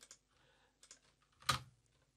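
A few close, light computer keyboard key presses in a quiet room, including a single sharper, louder keystroke near the end, with no one talking.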